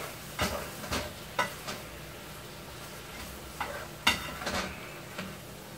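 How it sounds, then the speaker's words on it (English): New Orleans style red beans stirred in a pot, several sharp scraping strokes in irregular pairs over a steady low hiss, close and moderately loud. "let's give this a good old stirring. Break up all them pieces."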